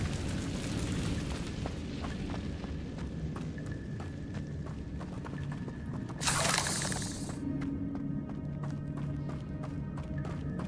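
Incendio fire spell cast in Hogwarts Legacy, a brief bright whooshing burst of flame rising mid-clip over steady game ambience and soft sustained musical tones.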